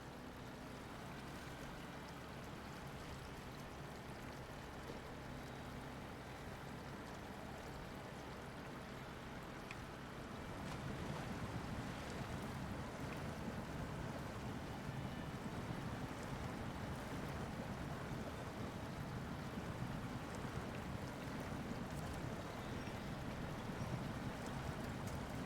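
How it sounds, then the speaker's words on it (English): Truck in SnowRunner wading through water in low gear, a steady sloshing, rushing wash that grows louder and fuller partway through, continuous with no talk. "And of course there's water."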